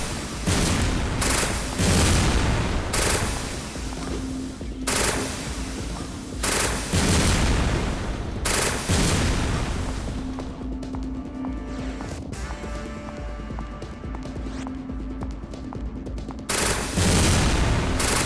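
Gunfire from the PlayStation game Resident Evil Dead Aim: a series of loud, sharp shots and blasts in bursts, separated by brief lulls with ringing tails and game ambience.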